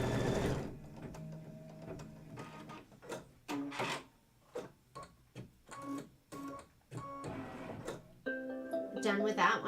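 An embroidery sewing machine stitches a quilt in a rapid series of short mechanical bursts separated by brief pauses, close and fairly quiet, ending in a louder, denser run.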